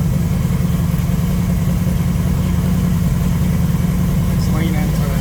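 A 1980 Pontiac Trans Am with idle mixture screws set too rich, its engine running steadily on the trans brake, a loud, continuous low rumble throughout with no rise in pitch.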